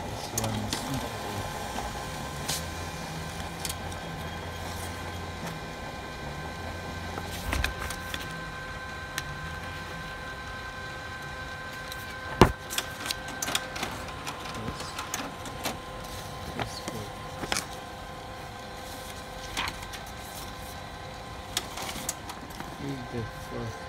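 An HP LaserJet CP1025 colour laser printer runs continuously with a steady mechanical whir, rattles and intermittent clicks of gears and rollers, close and fairly loud throughout.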